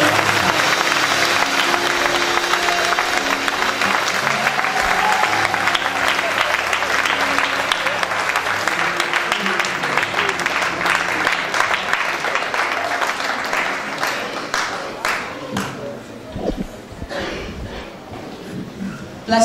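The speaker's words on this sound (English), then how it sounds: "please welcome with a loud praise and grateful clap to God" Loud, sustained applause and clapping from a church congregation at an evening thanksgiving service, a dense wash of hands with crowd noise that thins and breaks into scattered claps near the end.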